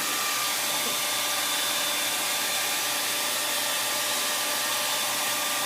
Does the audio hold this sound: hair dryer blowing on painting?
yes